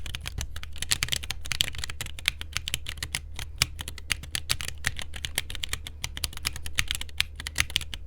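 Steady, fast typing on a mechanical keyboard fitted with clicky Aqua Cream Blue switches: a dense run of sharp, crisp keystrokes, close and continuous for several seconds with no talking.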